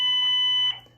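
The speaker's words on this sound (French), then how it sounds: "c'est une alarme" An electronic alarm rings in steady tonal beeps, loud and close, holding for most of a second before cutting off into a quiet room.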